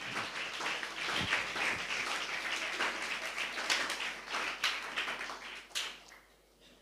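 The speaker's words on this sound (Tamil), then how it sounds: "நல்ல கைத்தட்டி ஆண்டவருக்கு நன்றி சொல்லுங்க" A church congregation claps along, scattered hand claps mixed into a dense, fairly faint wash of clapping that carries on steadily, then thins toward the end.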